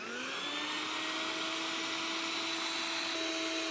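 A Bucket Head vacuum sits on a 5-gallon bucket with a snowmobile hose attached, giving a loud, steady motor whine and rushing airflow that holds level throughout.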